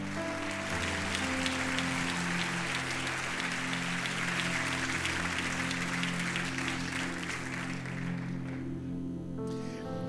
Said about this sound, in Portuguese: Pode aplaudir ao Senhor por isso?